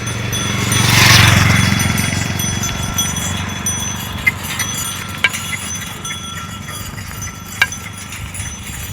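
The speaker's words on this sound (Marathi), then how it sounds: "या बघा, गाई म्हशी बैलगाडी समोरून येतात." Cows, buffaloes and a bullock cart pass along a road near a farming village in the morning, with hooves clopping and occasional sharp metallic clinks over a steady outdoor rumble.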